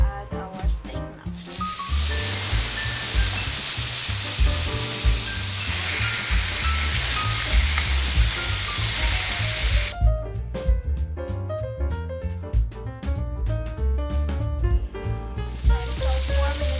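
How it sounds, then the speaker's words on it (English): A steak dropped into a very hot cast iron skillet bursts into a loud, steady sizzle that holds for several seconds before breaking into rapid crackling spatter, close and continuous with no voices. "It's real nice and hot. I'm gonna add our steak now."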